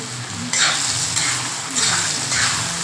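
Chopped onions and drumsticks sizzle and fry in a hot pan, with a spatula stirring in several regular scraping strokes.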